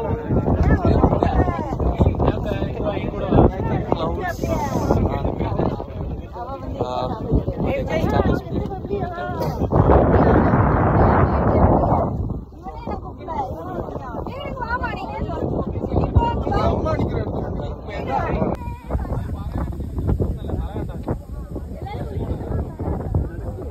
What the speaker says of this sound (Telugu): చల్లగా ఉంది, పై నుంచి కొడతా ఉంది గాలి, చాలా బాగుంది.